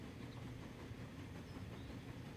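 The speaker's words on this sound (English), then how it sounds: "And here comes the other train." A steady rumble of a train rolling past in the video game Transport Fever 2, with continuous low clatter and wheel noise holding an even level for the whole stretch and no talk over it.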